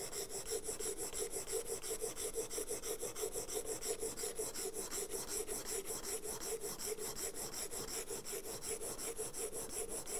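The iron of a bench plane is sharpened by hand, its ground bevel rubbed back and forth on an abrasive in a steady, even rhythm of soft rasping strokes, quiet and close with no talk.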